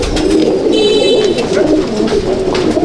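Andhra pigeons coo loudly and close at a pigeon loft, one bird held in hand, their throaty repeated coos rolling in a steady overlapping rhythm with no talk.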